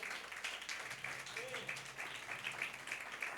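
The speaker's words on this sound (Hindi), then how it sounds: "तो बहन के लिए जोरदार तालियां बजा दें।" A church congregation claps for sister Saleema, who brought the bouquets, a fairly soft, steady patter of many hands that stays even throughout, with a faint voice briefly audible underneath.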